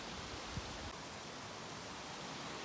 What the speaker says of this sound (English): Babbling creek sound every so often.